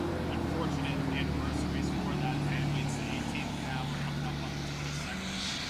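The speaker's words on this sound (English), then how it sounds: "I didn't hear any of that with that truck that went by" A truck passes during an outdoor press briefing, its low engine rumble steady and loud throughout, mixed with a voice speaking.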